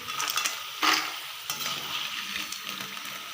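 Jackfruit pieces frying in oil as a ladle scoops them out: a steady, moderate sizzle with brief scraping and stirring bursts, no talking.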